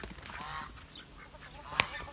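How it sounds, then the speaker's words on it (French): Vorwerk hens and a rooster in their coop pen give soft, scattered clucks and squawks over a noisy outdoor background, with one sharper call standing out near the end. "On a le coq Vorwerk, c'est 5 ou 6 poules."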